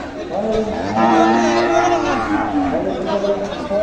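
Cattle lowing at a busy village cattle market in Manikganj, with large cows and buffalo present; repeated moos ring out close and loud over steady crowd chatter throughout.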